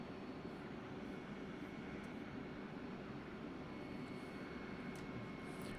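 Engines of an EasyJet Airbus A320neo idling during pushback in the X-Plane 12 flight simulator, a steady broad hum that is faint and unchanging throughout, with no voices.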